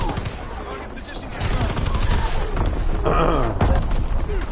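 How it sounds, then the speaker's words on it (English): Artillery fire in a PS4 video game: heavy booming gunfire blasts rolling over one another, loud and dense through the clip with a sharper burst near the end, under some game voice chatter. "Firing division artillery."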